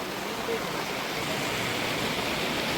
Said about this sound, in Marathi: बाहेर पण किती जोरदार पाऊस चालू आहे